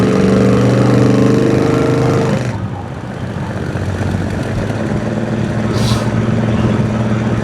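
A 1967 Plymouth Fury cruises along a bumpy road, its big engine droning loud and steady from inside the car, with a tonal hum that drops out midway under continuous road and wind rumble.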